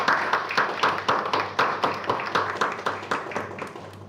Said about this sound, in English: So I want you all to give a big round of applause to Sanjay.